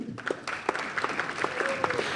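Audience applause fills the hall at a theatre award ceremony and drama festival opening evening: a steady, dense patter of many hands clapping, moderately loud and sustained throughout with no talk over it.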